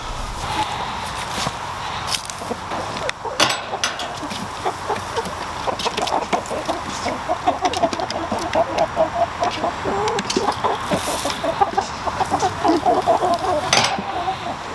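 Chickens cluck and squawk close by on a farm amid rustling and shuffling footsteps, the clucking continuing in busy, irregular bursts throughout.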